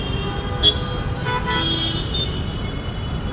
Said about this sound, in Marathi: ही पवईची ट्रॅफिक, इथंच हा लफडा आहे ट्रॅफिकचा